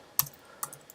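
Two quick, crisp keystrokes on a computer keyboard, close and quiet, with a short pause between them.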